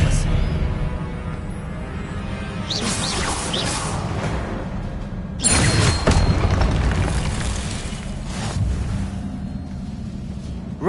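A spell blasts out in the Hogwarts Legacy game on PS5 with booming, whooshing bursts around the third and sixth seconds. They sit over a steady rumble of game music and ambience.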